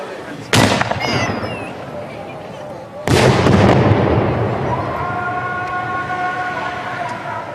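Two huge firecracker blasts crack sharply a few seconds apart in Syria at sunset during Ramadan, each echoing and crackling away, followed by the distant wailing of the call to prayer.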